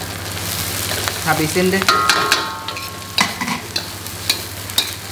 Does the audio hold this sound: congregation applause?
no